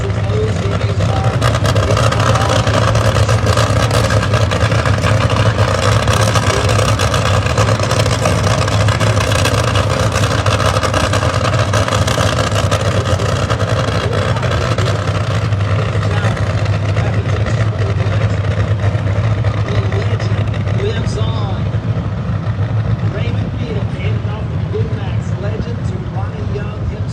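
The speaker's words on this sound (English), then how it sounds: "Nostalgic funny cars." Loud, rumbling nostalgia funny car drag racing engines roar continuously nearby at Texas Motorplex, with a commentator talking over the noise.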